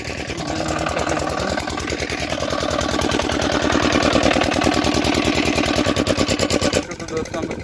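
An engine runs beside a pond, a loud, close, steady chugging with rapid regular pulses that cut off near the end, with someone talking over it.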